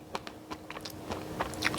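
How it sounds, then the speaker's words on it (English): Close-up crunchy biting and chewing of lobster tail skewers, a series of sharp crackling crunches in quick succession with no talking. "It's so crunchy."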